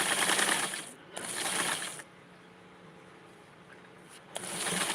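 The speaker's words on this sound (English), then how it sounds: "I will do some serger sewing." A serger sewing machine running in short bursts, a close whirring, rattling hum that starts and stops, with a quieter idle stretch between runs.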